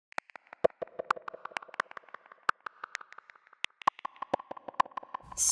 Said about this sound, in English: we have these echo percussions.